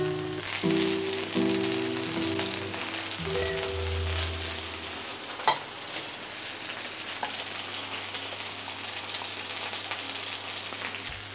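Chopped tomatoes sizzle loudly as they go into a paella pan for a chicken and mushroom paella, a steady crackling fry holding up close throughout with a low hum underneath.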